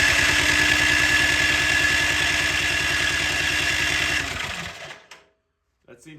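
A snow blower engine cranks rapidly and evenly during a compression test, a loud rhythmic chugging for about four seconds before winding down and stopping, followed by brief quiet and a small clatter.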